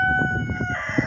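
A rooster, kept on a small farm flock alongside bantam hens and chicks, crows once up close, its loud call sitting over a hum of steady background noise.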